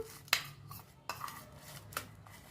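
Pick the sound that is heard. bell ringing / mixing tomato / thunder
mixing tomato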